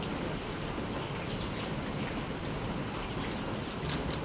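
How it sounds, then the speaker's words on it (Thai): Steady rain falls outdoors in a rural village yard in the late afternoon, a dense even patter of drops on surfaces at close range, with no talking. "ฝนตกแง่ๆอยู่ด้วยพี่น้องเด้อ"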